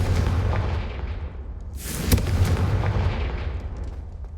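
A Confringo blasting spell goes off in a Hogwarts video game, a sharp booming burst near the middle that rolls out into a rumbling tail over a steady low ambient drone.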